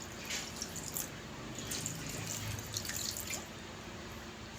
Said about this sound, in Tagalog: Tapos magdadagdag tayo ng tubig.